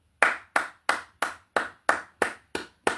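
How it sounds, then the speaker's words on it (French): Hand claps called for by a speaker addressing a crowd, heard as nine sharp, evenly spaced claps in a steady rhythm, close and fairly loud, more like one person clapping than a full audience. "Applaudissez pour les beaux ailleurs."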